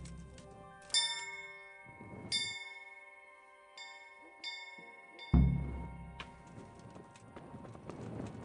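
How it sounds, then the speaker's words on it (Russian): Town bell in Kingdom Come: Deliverance striking about six times at irregular intervals with long ringing decays, fairly clear, while horse hooves clop in the background. "Неужели этот колокол слышно на весь город?"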